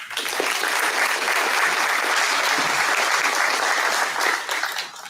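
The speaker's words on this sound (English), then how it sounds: "Give yourselves a great applause for the determination shown." Graduates and guests at a community college commencement ceremony applaud in a dense, sustained roar of clapping that holds evenly throughout before cutting off at the very end.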